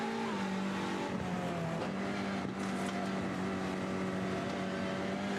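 Front-wheel drive touring cars in a racing video game scream downhill together. The engine whine is loud and steady and shifts in pitch as they change gears, with several cars layered close by.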